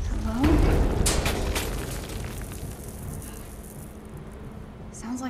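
Rumbling, rattling debris and creaking structure in the Marvel's Avengers video game, a loud sustained crash at the start that slowly fades into continued rattling, with a brief voice-like swoop near the beginning.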